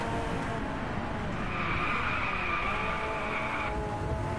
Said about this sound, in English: Evolution is just super proud of the authentic car noises they've captured